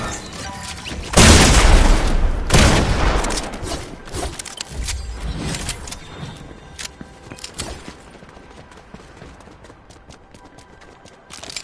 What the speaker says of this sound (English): Travis Scott's shooting me right now.